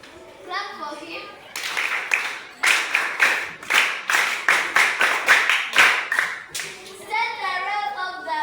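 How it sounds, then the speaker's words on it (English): Schoolchildren in a classroom applaud a fellow student, a burst of quick, ragged clapping lasting several seconds, with children's voices before and after. "Clap for him."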